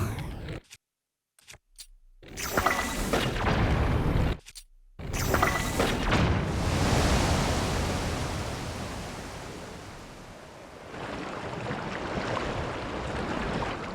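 Bombs in Zelda: Tears of the Kingdom blast holes in rapid bursts, loud and close, followed by a long, noisy roaring wash that slowly fades and rises again.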